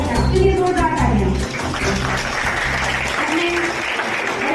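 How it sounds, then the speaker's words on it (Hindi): A school audience at a traffic-safety awareness event bursts into loud, sustained clapping that starts strong, dips briefly and carries on, with a few voices mixed in. "आपके लिए जोरदार तालियां"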